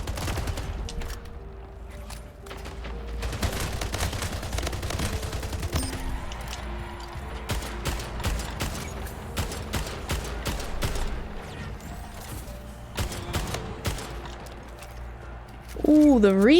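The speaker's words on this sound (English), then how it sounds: "Ooh, the reload." Video game gunfire and a weapon reload, with dense rapid bursts of shots running throughout and a warbling electronic tone near the end.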